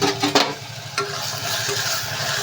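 Sliced onions frying with turmeric in a pan for a potato curry, a close, loud sizzle with a few sharp scraping stirs at the start and a steady hiss continuing afterward, without talk.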